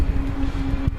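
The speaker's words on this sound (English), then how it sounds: "I don't have to deal with all the traffic, as you could hear is over that way." Distant road traffic carries over to a paved bike trail as a low, steady rumbling hum, faint and continuous, with no talking.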